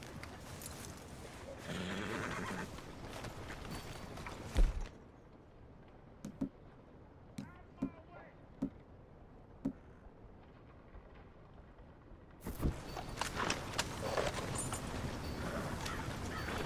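Horse hooves in Red Dead Redemption 2 clip-clop over a steady outdoor game ambience, shifting to sparse, distinct single hoof knocks as the horse slows in a quieter middle stretch before the fuller background returns.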